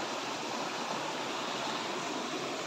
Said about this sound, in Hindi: उधर से पानी आ रहा है,